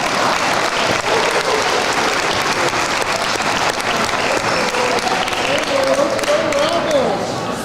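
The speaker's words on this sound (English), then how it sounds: "Let's give the seniors a nice round of applause one more time, yeah." Crowd at a girls' high school basketball game in Marshfield applauds the seniors with sustained, loud clapping and cheering that fills the gym, with a few voices rising in the mix.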